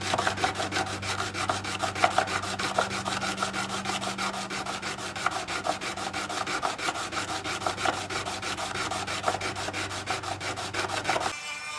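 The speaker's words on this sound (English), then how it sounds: "And now I'm going to get going on quite a bit of hand sanding." Hand sanding a forged Damascus steel tanto blade, a steady rapid back-and-forth rasping stroke repeated throughout, close and even in loudness, with no voices.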